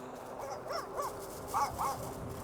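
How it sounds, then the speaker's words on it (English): A dog runs alongside a moving Philodo H8 AWD e-bike outdoors, giving a few short whining yelps over steady wind and road rumble. "Trying to run with me today, aren't you, buddy? Look at you run."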